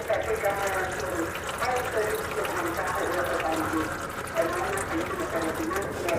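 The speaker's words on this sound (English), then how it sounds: "So the oil is coming out." Gearbox oil drains from a Jeep KK automatic transmission into a catch can, a steady gushing, trickling pour heard continuously at close range, with a voice talking over it.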